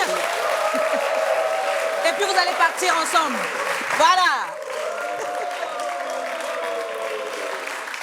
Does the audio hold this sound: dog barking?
no